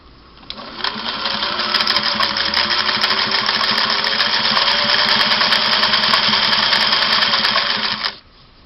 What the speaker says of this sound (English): I'm going to start there and tune it a little bit and see how fine of a stitch I can make with these number 14 needles